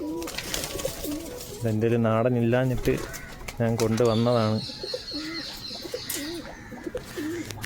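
Released domestic pigeons coo at a home loft in two distinct throaty bursts, close by, while someone talks before, between and after them over light outdoor background noise.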